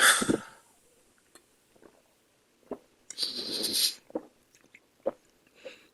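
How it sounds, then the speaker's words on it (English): A close drink of water from a glass: a few quiet swallows and wet mouth clicks, then a gulping, liquid burst, followed by soft scattered mouth sounds. "I want to make sure you hear me gulp."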